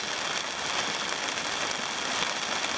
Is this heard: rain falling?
yes